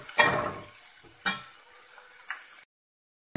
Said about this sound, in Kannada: ಈರುಳ್ಳಿ ಎಲ್ಲ ಫ್ರೈ ಆಗಲಿ